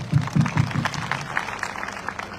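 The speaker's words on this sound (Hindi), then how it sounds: "आपके लिए मैं ताली बजाता हूं।" An audience claps in a hall in a short, lively burst that fades after about a second, with a faint crowd murmur underneath.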